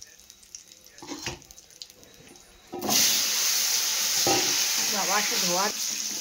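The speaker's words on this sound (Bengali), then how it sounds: "এদিকে তেল গরম হয়ে গেছে, দিয়ে দেবো সাদা জিরে আর দিয়ে দেবো দুটো তেজপাতা। এবার দিয়ে দেবো আলুটা।" Potatoes drop into hot oil with cumin seeds and bay leaves, setting off a sudden, loud, steady sizzle partway through, after quieter kitchen clatter and a voice speaking beneath it.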